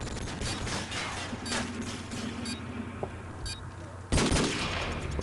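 Rapid gunfire bursts in Call of Duty 4 multiplayer rattle out over game noise, with a louder burst near the end, and voices talk faintly underneath.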